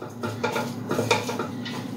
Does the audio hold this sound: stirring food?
yes